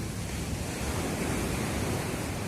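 Sea waves surging and breaking on the shore form a steady, broad roar of surf that holds even and loud throughout, with no voices.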